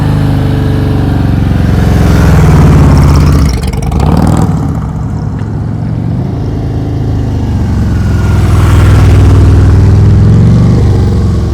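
A motorcycle engine revs loud and close during slow-speed riding drills, holding a steady throbbing drone with throttle swells rising and easing over several seconds.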